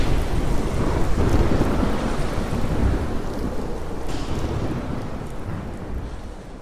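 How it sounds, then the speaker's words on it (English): A loud, deep thunder rumble rolls and slowly fades over steady, heavy rain. "There was lightning and thunder."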